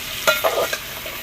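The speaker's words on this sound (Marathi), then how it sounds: "आता आपण घेऊया हलवून छान असं मिक्स करून घेऊया" Peas, cauliflower and peanuts being stirred in a pan over a wood-fired stove for masala rice, a few short close scrapes and rustles against a low background hiss, no voices.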